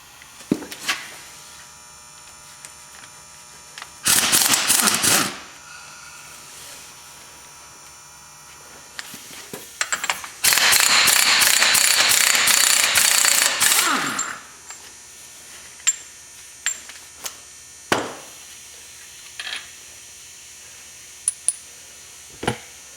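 Power tool removing bolts while replacing a CV axle on a 2004 Chevrolet Silverado 2500HD: two loud bursts, one about a second long and a longer one near four seconds, rattling between scattered clanks and clicks of metal parts.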